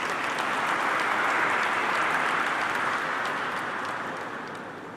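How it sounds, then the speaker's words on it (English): Audience applause at a securities market symposium, a dense, steady wash of many hands clapping that holds evenly for several seconds before gradually tapering off toward the end. "Can we have a round of applause, please?"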